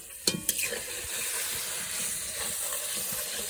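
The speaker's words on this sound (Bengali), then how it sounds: "মশলা কষানো এখন" Spices with onion, turmeric, chilli powder, salt and green chilli frying in a pan give a steady close hiss and sizzle, opening with two sharp knocks.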